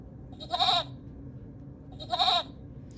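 A goat bleats twice, close and clear, each call a short wavering cry with a quiet pause between.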